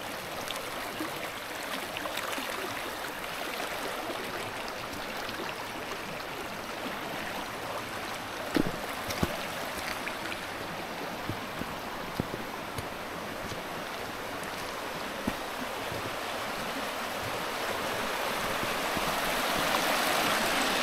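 A mountain stream in the High Tatras rushes steadily beside a footpath, a dense, even hiss of flowing water that carries on unbroken and swells slightly toward the end.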